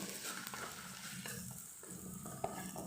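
Onions fry in a pan with a low, even sizzle and faint stirring scrapes, plus one small clink near the end; quiet and close.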